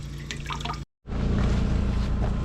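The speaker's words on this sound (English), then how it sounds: "The hot water is only running out of the bathroom faucet." Hot water runs from a bathroom faucet in a frozen off-grid farmhouse in winter, a close, splashy, gurgling stream that cuts out briefly, then resumes fuller and louder.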